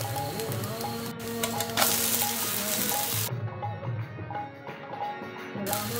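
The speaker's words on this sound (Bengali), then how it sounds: "উল্টে পাল্টে ভালোভাবে ভেজে নিতে হবে" Sabudana potato paratha sizzles and crackles steadily in hot oil on a pan over low heat, a close, continuous frying hiss with occasional light stirring or turning noises and no talking.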